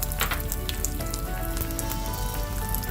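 Curry leaves and cumin seeds sizzle and crackle in hot oil, a loud continuous frying hiss with sharp pops scattered through it, no voices.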